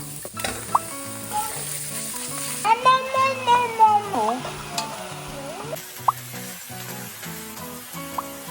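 Food fries in a pan while making a high-protein, low-carb Asian dish: a bright sizzle dominates the opening, then continues under loud melodic background music, with a brief voice partway through.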